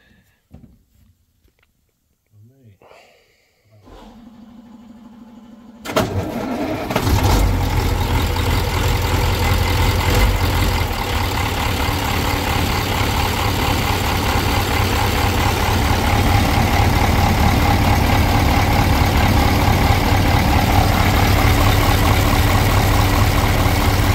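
A KrAZ truck's diesel engine cranks briefly after a few quiet knocks, then fires and settles into a loud, steady, rumbling idle that runs on unbroken with no talk.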